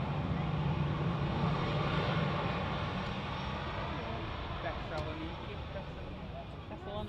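An EasyJet airliner approaches Manchester Airport, its broad engine roar steady and loud throughout and easing slightly toward the end.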